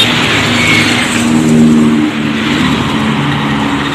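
An intercity bus on the Purwodadi route rolls past with a loud, steady engine roar and tire noise, close by, the sound swelling slightly midway before carrying on.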